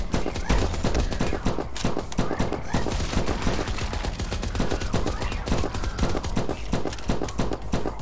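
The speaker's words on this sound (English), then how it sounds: "never go full auto with this gun, you run out of ammo in a few seconds" Full-auto gunfire from a weapon in the video game From Space, heard as a long, loud and steady stream of rapid shots with no pauses.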